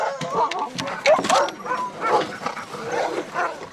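Sled dogs, including a Greenland husky cross, yip and bark excitedly in a steady, overlapping chorus before a mushing ride in the Doubs, with a person speaking among them throughout.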